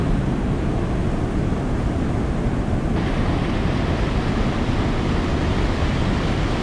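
Rushing river water in the Great Smoky Mountains, near an old abandoned dam, makes a steady, loud broadband roar that runs unbroken throughout with no voices.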